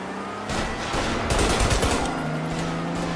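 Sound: gunshots in the video game Mafia

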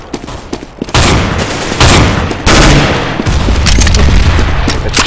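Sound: gunshots in the video game Counter-Strike: Global Offensive

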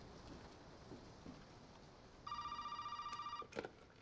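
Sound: telephone ringing in Resident Evil 7 VR video game

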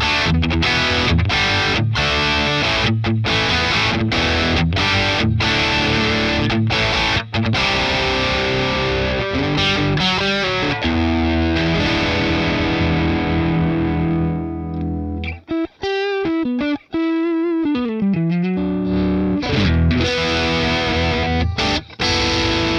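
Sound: electric guitar, higher gain Marshall style tone on Boss Katana amp

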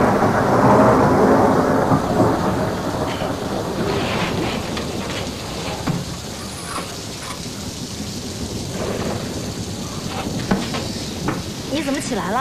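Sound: rain and thunder outside

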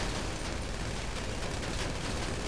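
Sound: gunfire in the video game Grand Theft Auto V

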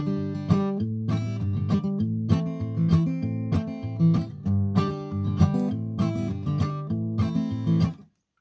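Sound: guitar chord strummed with palm-muted percussive rhythm

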